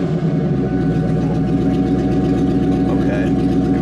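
A Ford Mustang engine with cut mufflers runs close by, holding a steady, throaty hum with a low rumble. The engine is suspected of a fault.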